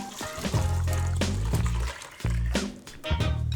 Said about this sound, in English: So the next move is to add your stock and or water.